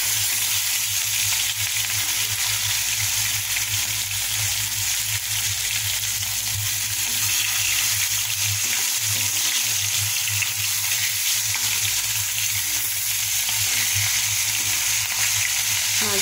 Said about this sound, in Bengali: মাছগুলোকে আমি হালকা হালকা করে ভেজে নেব।